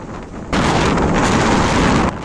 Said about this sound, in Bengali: দেখতে পাচ্ছেন বাতাসের গতিবেগ এতটাই ছিল যে পাখিগুলো ঠিকমতো উড়ে যেতে পারছিল না